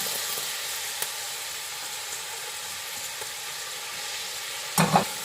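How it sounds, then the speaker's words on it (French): Drained brined sauerkraut cabbage sizzles and fries in a pot, a steady low hiss with soft scraping stirs and a louder clatter of the spoon near the end. "Et là, j'ajoute mon chou."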